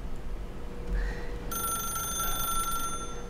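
A telephone rings in The Stanley Parable, a steady electronic ringing tone that starts partway through and holds alone over a low background hum.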